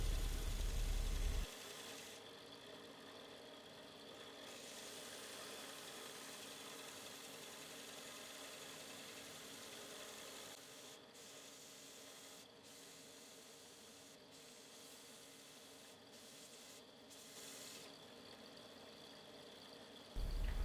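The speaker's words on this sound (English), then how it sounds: "I use a belt sander to flatten the bottoms of the overlay." A belt sander runs continuously against the underside of an Osage orange bow overlay, a loud, even abrasive roar that starts abruptly and holds steady before cutting off.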